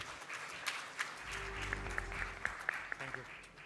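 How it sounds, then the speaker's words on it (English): Audience applause and cheering at a technology conference as a startup founder and CEO is welcomed onstage, steady clapping that swells briefly and fades before he starts speaking. "Cheer up for Sid Chakravarti."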